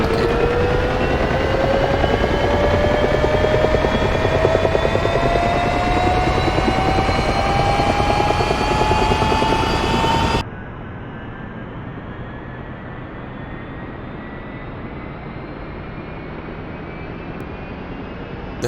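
A UH-1H helicopter in the DCS flight simulator starts its engine and spins up the rotor, a loud steady turbine whine rising in pitch; midway it abruptly drops to a quieter, muffled drone that continues climbing.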